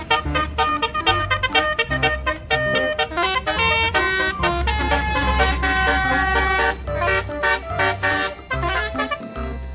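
A yellow toy bus plays its telolet horn: loud, musical, multi-tone honks repeat in quick melodic bursts with almost no pauses.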